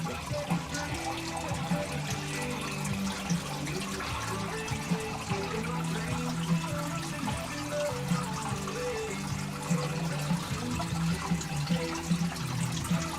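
Water runs steadily through a gold-prospecting sluice, a continuous broadband rush with trickling and pouring textures that holds at an even level throughout, with no clear breaks.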